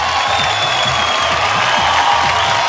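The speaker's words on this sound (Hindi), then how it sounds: "जोरदार ताली से स्वागत करी चंदन की माँ" An audience at a Bhojpuri television show finale bursts into loud, sustained applause and cheering to welcome Chandan's mother, dense clapping throughout.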